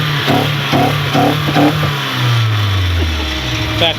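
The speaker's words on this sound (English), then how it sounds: "Back pressure popping in the back." Mitsubishi Eclipse engine idling roughly with a faulty injector wire, its exhaust giving a quick run of four sharp back-pressure pops in the first two seconds, then a low revving drone settling down.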